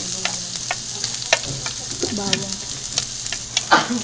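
Onion stir-fries in chili oil in a hot pan, a close, steady sizzle broken by repeated scraping and clacking strokes of a utensil against the pan, with no talking.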